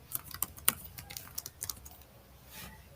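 Code being typed on a computer keyboard, a run of sharp close key clicks with a few louder strokes, irregular in rhythm and heard alone with no talk.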